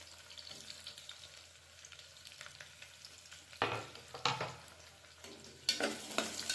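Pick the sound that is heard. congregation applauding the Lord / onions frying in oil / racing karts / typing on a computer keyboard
onions frying in oil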